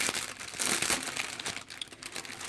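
Crinkly material being handled and scrunched while a shabby-style paper flower is assembled, a close, continuous rustling and crackling that swells and eases over a couple of seconds with no talking.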